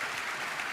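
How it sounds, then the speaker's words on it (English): An audience at a Bitcoin conference gives Senator Haggerty a brief, dense burst of applause, with clapping throughout. "One more round of applause for Senator Haggerty."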